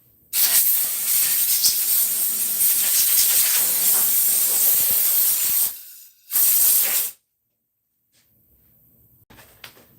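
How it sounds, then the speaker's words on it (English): Coolant sprays in a loud, continuous hiss from a machine for several seconds, stops, then gives one shorter burst before going quiet. "Spray coolant everywhere."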